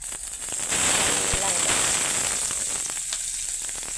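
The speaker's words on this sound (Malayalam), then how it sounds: "ഇനി നമുക്ക് ആ എണ്ണയിലോട്ട് തന്നെ കുറച്ച് കടുകിട്ടൊന്ന് പൊട്ടിക്കണം" Continuous sizzling of mustard seeds in hot oil with scattered small pops and crackles, fairly close and steady for the whole stretch.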